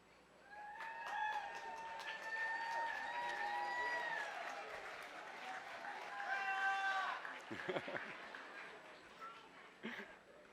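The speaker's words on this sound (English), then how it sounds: "If you graduated from Eureka High School, please flash your headlights or stand up and cheer" Graduates and families cheer at the Eureka High School 2021 graduation ceremony, scattered clapping and shouts from a distant crowd mixed with long, tonal honks that rise and fall over about ten seconds.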